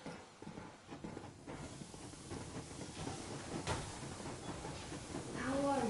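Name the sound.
steam train moving, from video game Metro Exodus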